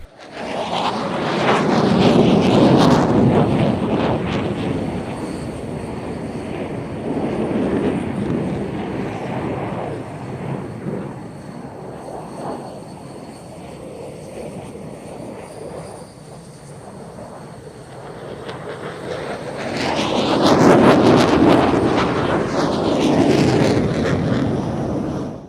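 F-16 and JF-17 fighter jets performing at an airshow, a loud roaring pass swelling and fading, then a second roar building near the end, heard from a distance outdoors with wind.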